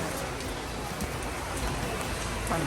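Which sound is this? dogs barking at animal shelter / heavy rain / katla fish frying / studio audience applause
heavy rain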